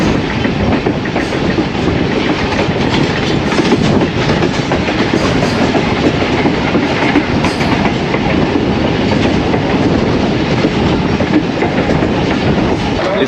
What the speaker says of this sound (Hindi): भावलपुर रेलवे स्टेशन पहुंच गई है ट्रेन